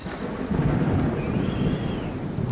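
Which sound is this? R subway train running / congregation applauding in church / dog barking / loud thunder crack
loud thunder crack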